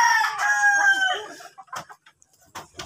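A fighting cock lets out a loud, near crow that trails off, followed by a few short, scattered clucks and pecking sounds in an otherwise quiet yard.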